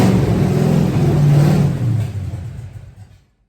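A Camaro engine with almost no fuel in it cranks, catches and revs loudly and close by with a deep rumble. It then sputters and dies out into silence after about three seconds.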